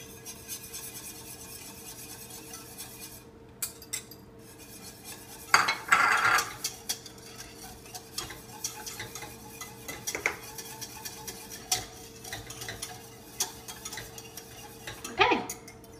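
A whisk beats four egg yolks into a thickened bechamel sauce in a pot, making quick scattered clinks and scrapes against the metal over a quiet background, with a few sharper taps.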